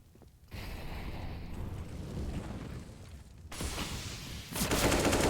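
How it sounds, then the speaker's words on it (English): Gunfire in a Counter-Strike match on the Mirage map rumbles as a steady wash of distant shots, growing louder and denser toward the end, with no talk. "Ooh, good headshot from Bottle, reading Kaz's position."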